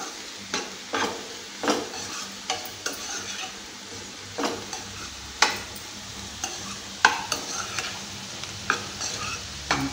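Carrot fry cooking with a spoonful of chili powder, stirred with a spoon in a pan: a soft sizzle is punctuated by regular scraping and tapping strokes of the utensil against the metal, with no voices.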